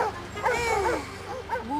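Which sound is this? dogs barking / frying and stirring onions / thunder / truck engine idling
dogs barking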